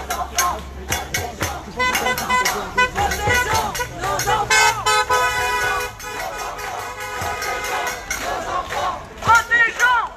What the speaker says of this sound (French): Il y a quand même beaucoup de gens qui passent en voiture et qui nous soutiennent. On les voit, ils klaxonnent